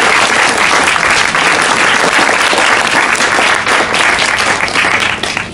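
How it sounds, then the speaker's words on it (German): A packed audience at an Occupy Oakland gathering bursts into loud, dense applause, a continuous close roar of many hands that holds steady before easing slightly at the end. "Danke, ich gebe einen Applaus."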